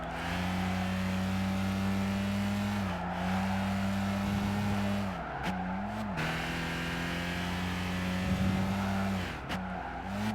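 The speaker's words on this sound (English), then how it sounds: "this car's engine sound is actually really not great" A car engine drones steadily in the Gran Turismo 5 racing game during a front-wheel-drive challenge, holding a constant hum with brief dips and shifts as it changes gear, loud and continuous with no voices.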